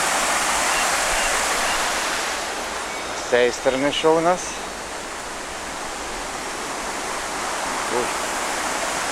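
A mountain river on a trail near Alhaurín el Grande rushes over stones in a steady broadband roar, and someone speaks briefly near the middle above the constant water.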